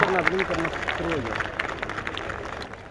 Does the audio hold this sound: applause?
yes